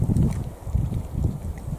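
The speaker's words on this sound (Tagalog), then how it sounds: "Medyo maginaw kasi mahangin." Wind buffets the microphone outdoors during a lakeside fishing picnic in Sweden, a steady low rumble with gusty swells throughout and no voices.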